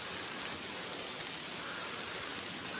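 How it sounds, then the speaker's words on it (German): Rain falls outdoors beside a lake on a fishing trip, an even, constant hiss of drops with no let-up and no voices. "Aber ich stelle mich jetzt hier nicht in den Regen rein"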